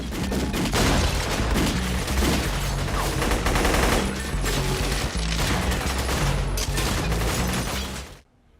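Rapid, dense gunfire from The Matrix lobby shootout rattles continuously in loud overlapping bursts, with mechanical clatter and impacts mixed in, before cutting off abruptly at the end.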